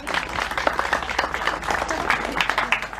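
An audience applauding a local woman who once worked with flax, at a heritage day event in Barentin: dense, steady clapping from a crowd, filling the whole moment with no pause.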